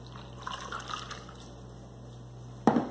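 Hot water poured into a 2007 MRE Cheese and Veggie Omelet pouch, a soft trickle under steady background hum, then a brief louder splash near the end.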